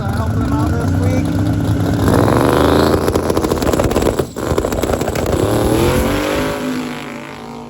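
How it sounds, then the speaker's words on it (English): A twin-turbo big-block Tesla drag car roars down the right lane at a drag strip, a loud, close engine howl climbing through its revs with a brief dip midway, while a voice talks over it. "it's a Tesla with twin turbo big block here in the right lane"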